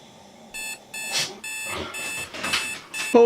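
An alarm clock rings in repeated bursts of harsh electronic beeping, loud and close, each burst broken by short pauses, with no talk.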